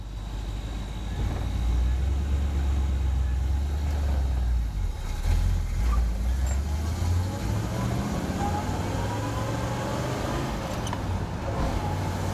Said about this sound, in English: 4 on the floor, but engine sounds great